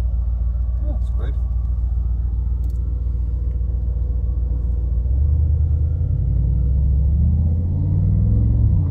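A Mercedes G63 AMG Edition 1 is driven in Germany, its deep engine rumble steady in the cabin and swelling louder partway through, with people talking over it.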